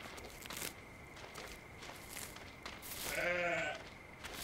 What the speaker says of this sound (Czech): Ale ovce, ale ovci zrovna nechci.